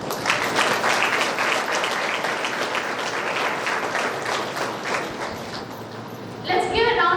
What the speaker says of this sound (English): Let's give a round of applause to our head of department and staff members.